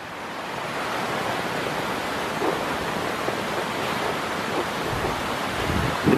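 Steady broadband roar of Sherman Falls in a winter gorge in Hamilton, continuous and rushing throughout with no pauses, heard from somewhat nearby.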